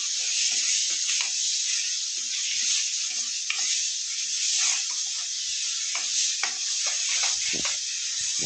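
Brinjal chutney is stirred into a hot fried tempering in a pan, making a bright, steady hissing sizzle with soft repeated scraping and stirring strokes underneath, close and continuous.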